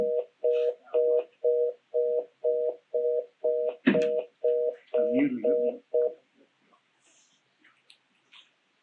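Telephone dial tone after a dropped landline call, heard as a steady run of about twelve evenly spaced beeps, loud and close, with a brief rustle partway through and faint room noise after the tones stop.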